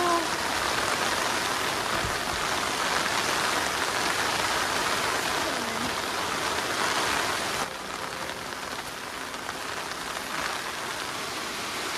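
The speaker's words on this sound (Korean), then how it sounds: "일단 비가 조금 다시 그칠 때까지 기다려야 될 것 같네요." Rain falls steadily on a deserted mountaintop campsite, a dense even hiss of drops on surfaces that continues throughout and softens slightly near the end.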